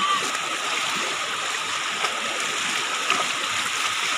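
Floodwater flowing steadily through Barangay San Pedro in Duero, Bohol, a broad, continuous rushing wash that stays close and fairly loud for the whole stretch without break.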